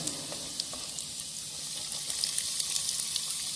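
Chopped garlic and onion fry in a pan while being stirred, giving a steady close sizzle with light scraping and soft crackles throughout, no voices.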